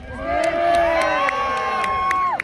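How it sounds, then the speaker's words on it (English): Spectators cheer and whoop for Sir Lancelot at a jousting tournament, a loud, sustained crowd roar with high shouts on top running through the whole stretch. "Those of you who are supporting Sir Lancelot, give him a cheer."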